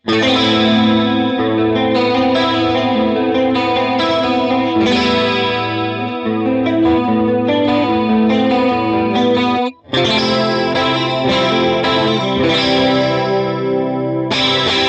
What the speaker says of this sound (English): I used the dimension style effect, which I'll let you hear right now